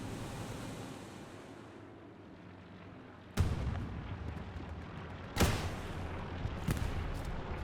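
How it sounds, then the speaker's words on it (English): Gunfire during a competitive video game match, with a few sharp, loud single shots or blasts standing out over a low rumbling background. "We do have Free the Chickens getting behind, winning his gunfight"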